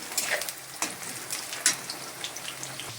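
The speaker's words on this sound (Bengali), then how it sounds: "এই সয়াবিনগুলো ভেজে নেবেন।" Soybean chunks frying in a generous amount of oil in a pan, giving a steady soft sizzle with scattered crackles and pops close by, with no voices.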